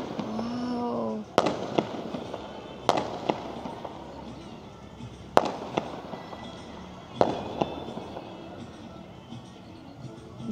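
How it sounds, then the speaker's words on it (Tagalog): Fireworks boom and crackle during the Tihar festival night, sharp loud bangs every second or two over a continuous rumbling wash of distant explosions and street noise, with a brief voice exclaiming at the start. "Oh guys, may fireworks."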